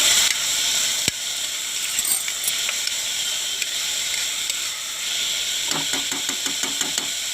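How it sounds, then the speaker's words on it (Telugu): Onions frying in hot oil inside a pressure cooker on a lit stove, a steady close sizzling hiss throughout with a sharp knock near the start and a run of light scraping clicks toward the end. "స్టవ్ వెలిగించుకుని కుక్కర్ పెట్టుకుని ఆయిల్ వేడెక్కిన తర్వాత ఆనియన్స్ వేసుకుని"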